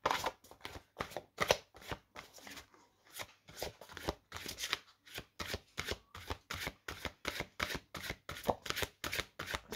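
Tarot cards are shuffled and handled in quick, crisp bursts of riffling and slapping, repeating steadily and close up with short pauses between, and no talk.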